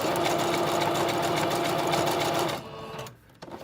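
A sewing machine runs steadily, stitching a zigzag through lace and fabric for a collage tag; its fast, even whirring hum continues close and loud for most of the clip, then slows and stops near the end.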